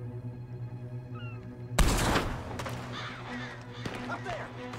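Gunfire in the video game Red Dead Redemption 2: a single sharp, loud shot bursts out near the start and trails into a rumbling echo, followed by fainter scattered pops over steady game ambience.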